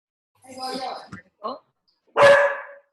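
A dog barks indoors during an online class, a few short separate barks and yips with one louder bark near the end, close and clear against silence.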